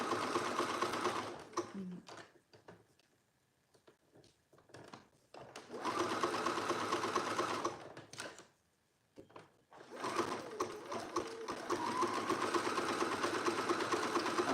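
Domestic sewing machine stitching sweatshirt fabric in bursts, a loud, rapid mechanical whir that stops and starts three times with quiet gaps and small handling clicks in between.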